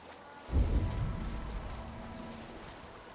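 A boat sailing on the sea in Assassin's Creed Valhalla, a low rush of water and wind that swells suddenly, then settles into a steady, rumbling wash.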